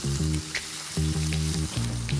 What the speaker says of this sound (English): 首先牛肉下去煎